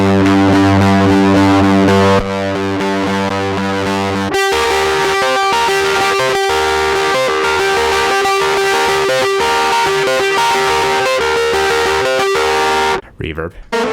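Irish bouzouki played through a guitar pedal's mid-range voicing effect, distorted sustained chords and picked notes ringing loud and steady, changing in tone partway through before cutting off abruptly near the end.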